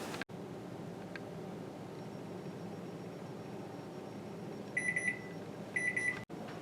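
A kitchen timer goes off while hot fudge sauce simmers: two short bursts of rapid high electronic beeping over a steady low background hum, heard alone.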